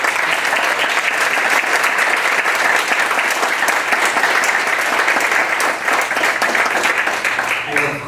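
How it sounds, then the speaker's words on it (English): Sustained, dense applause fills a New York Medical College colloquium hall in appreciation of Master Yan, with many hands clapping steadily and loudly for about eight seconds. "Let's show a warm New York Medical College applause of appreciation for Master Yan."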